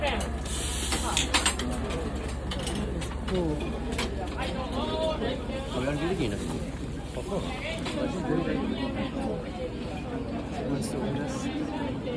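A machine mass-producing ningyo-yaki baked cakes near Senso-ji in Asakusa clanks and whirs with steady mechanical rattling and ratcheting, heard amid a busy crowd with people talking nearby.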